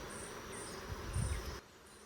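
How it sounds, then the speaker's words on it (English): Honey bees buzz around a hive, a steady, close hum that drops back slightly toward the end. "I would guess that this hive has as many bees as the other two"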